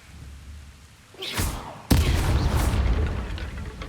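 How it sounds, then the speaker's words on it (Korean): A magical explosion in Hogwarts Legacy: a rising whoosh, then a sharp loud blast that leaves a broad rumbling roar fading over a few seconds. "폭발"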